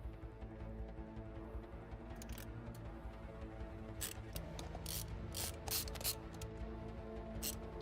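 Screws are driven back into a computer or game console, giving bursts of sharp ratchet-like clicks and scraping over a steady low mechanical hum, close by and fairly loud.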